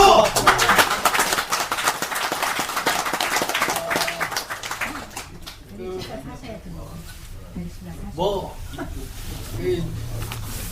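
An audience claps together, a dense burst of applause that is loud at first and then thins out and fades, giving way to voices talking.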